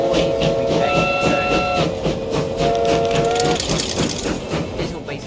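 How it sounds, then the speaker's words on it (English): A train runs in the video game Transport Fever 2, with a sustained steam whistle blowing twice over rhythmic clickety-clack of wheels on rails, fairly loud and steady. "we've got our first train"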